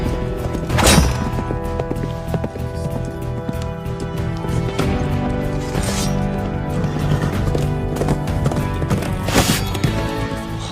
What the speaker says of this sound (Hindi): Magnificent beasts. So, Janaki, tell me more about this Avkum horse race.